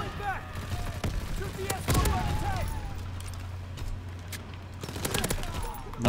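Machine gun fire in Call of Duty: WWII, a World War II shooter, crackling in bursts amid distant battle noise and explosions while someone talks over the action.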